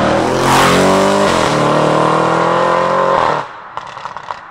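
A tuned 750 hp Audi RS3 engine revs hard and loud up close for over three seconds, a dense roaring note that rises and falls before cutting off abruptly, leaving faint ticking and background noise.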